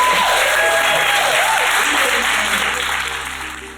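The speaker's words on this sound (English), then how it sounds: "can we get a round of applause for my people?" A crowd at a Memphis community gathering breaks into loud, sustained applause, dense clapping and cheering that holds strong before tapering off at the very end.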